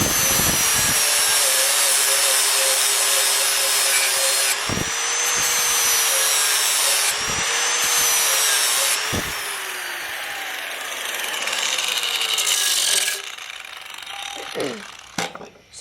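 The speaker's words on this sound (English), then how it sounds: "you're going to take your angle grinder and you're going to do like this with it spinning, and it's going to sharpen it" Angle grinder spinning against a blacksmith-made blade during sharpening, a loud continuous whine with rising and falling pitch, interrupted by short breaks and sharp knocks, before tapering off near the end.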